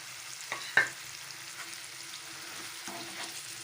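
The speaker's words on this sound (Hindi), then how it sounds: "अब इनको अच्छी तरह भूनना है।" Crushed potatoes fry with spices in a pan for bhujia, giving a soft, steady sizzle. A couple of faint scrapes or stirring knocks come near the start and again later, with no talk.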